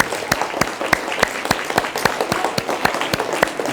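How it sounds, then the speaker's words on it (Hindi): An audience at a school yoga workshop claps to welcome a guest, with sharp, regular claps standing out over a dense bed of applause, close and fairly loud, without speech. "जोरदार तालियों से उनका स्वागत किया जाए।"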